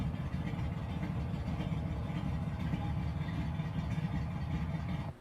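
A Pontiac GTO engine idles steadily, a continuous low, even rumble held at one level throughout before it briefly fades at the very end.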